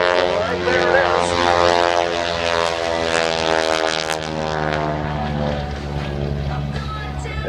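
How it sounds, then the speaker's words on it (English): A propeller airplane with a 450 horsepower Pratt & Whitney radial engine growls loudly as it banks around at an air show, a strong steady droning roar with rich harmonics, with announcer-style talk over it. "That growl you hear from that 450 horsepower Pratt & Whitney as she brings it right on around."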